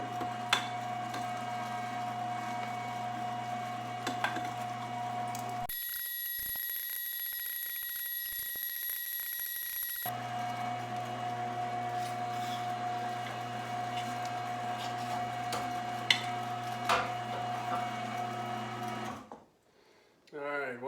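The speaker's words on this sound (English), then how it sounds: "Hope you can hear me over this grinder." A LEM 12 meat grinder runs steadily, grinding sweet Italian sausage meat with a constant mechanical whine and hum that cuts out briefly partway through, then resumes before fading at the end.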